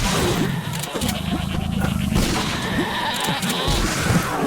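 Video game sheep in the Perilous Hearts concept demo bleat in short, repeated calls over a steady bed of in-game ambience and scattered impacts, fairly close and clear.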